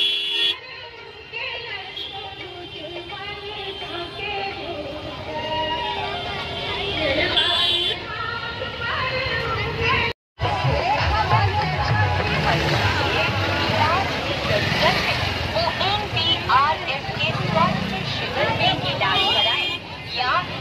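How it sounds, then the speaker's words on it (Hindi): Street crowd and traffic in Bihar during Chhath Puja celebrations, with vehicle horns honking amid a dense, loud jumble of voices and engines, a brief dropout midway, people talking close by throughout. "इतना ज़्यादा भीड़ है, इतना जाम है कि समझ नहीं आ रहा है"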